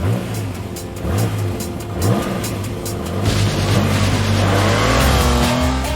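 A TVR sports car, driven by the Stig, launches hard off the line on a test track: a loud, close engine roar climbs through the revs, then steps up with a gear change into sustained acceleration.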